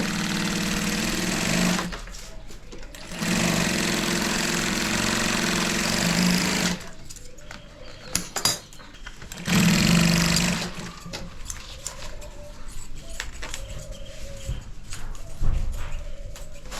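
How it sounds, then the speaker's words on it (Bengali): A sewing machine stitches a women's handbag, running in loud bursts of rapid mechanical clatter that start and stop several times, with quieter pauses and handling noise between the runs. "তো ভাই যে এখন এটা সেলাই শুরু করছে"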